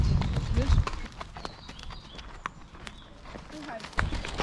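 A horse walks along a woodland trail on a hippotherapy ride, its hooves clopping in an uneven rhythm at close range beneath people talking.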